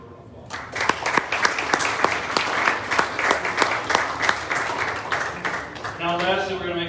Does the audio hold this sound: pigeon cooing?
no